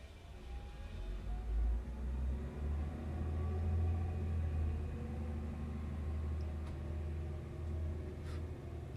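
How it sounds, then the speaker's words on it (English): A garbage truck works outside a home, its deep low rumble droning continuously from a distance with faint clanks through the wall, steady and muffled indoors. "there's a garbage truck outside"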